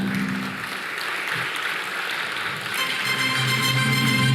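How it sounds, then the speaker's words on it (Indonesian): A room full of people at a stock exchange event break into steady applause, a dense patter of clapping that swells slightly near the end. "Sekali lagi mari kita berikan tepuk tangan yang meriah."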